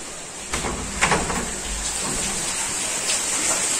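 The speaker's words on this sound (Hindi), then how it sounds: "बट अभी भी कंटिन्यूसली बारिश हो रही है।" Heavy, continuous monsoon rain in Kolhapur, a steady close hiss of downpour with a few soft knocks and splashes, no voices.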